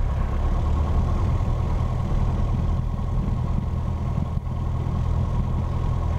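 Small aircraft engine running steadily before takeoff, its engine-driven fuel pump working, a continuous loud droning hum heard from inside the cockpit with no talk.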